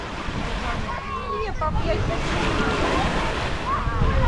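Sea surf rolls steadily onto a beach in Crimea, a broad continuous wash with wind buffeting the microphone, and a voice speaks briefly over it.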